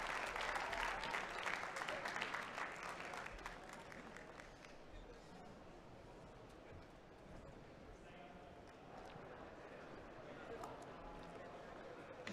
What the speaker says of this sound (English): big round of applause for Mikael.